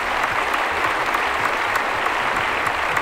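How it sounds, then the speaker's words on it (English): Steady, dense clapping from a small group, sustained evenly for about three seconds with no voices over it. "Golf clap. Golf clap."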